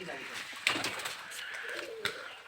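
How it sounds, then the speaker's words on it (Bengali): Local Giribaj pigeons coo nearby, a soft throaty cooing with a couple of sharper clicks against light background noise. "দেখেন সাউন্ড দেখেন কবুতরের বাজির"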